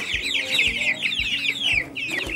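Growing backyard chickens cluck close by in a busy overlapping stream of high, chattering calls, with a few soft low thumps beneath and no talking.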